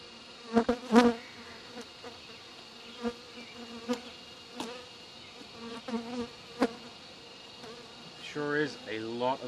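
Honey bees in a busy bee yard, a scattered series of close buzzing passes from individual bees flying around the microphone, some loud and near, others faint.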